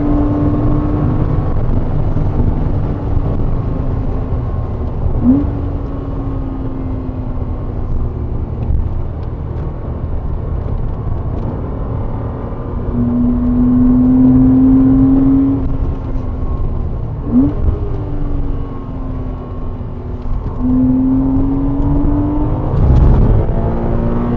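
A Porsche 718 Cayman GT4 engine drones steadily and loudly on the Goodwood track, rising in pitch through the gears with brief dips at each shift. The sound comes from inside the car and carries on without a break.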